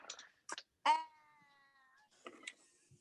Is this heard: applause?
no